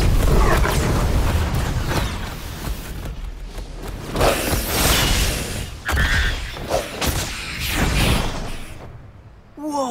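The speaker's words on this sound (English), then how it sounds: "They're shooting off fireworks." Fireworks bursting in the video game Neo: The World Ends with You, a string of booms and crackling pops of varying loudness over a few seconds.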